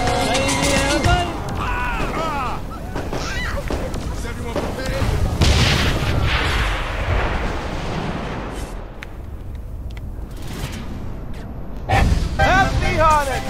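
Fire blasts and booming explosions from the Saints Row video game burst out in several loud hits amid chaotic game noise, with a player talking throughout.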